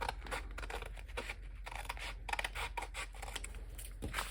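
Scissors snip through paper for a handmade envelope background, a quick, close series of crisp cuts with soft rasping in between.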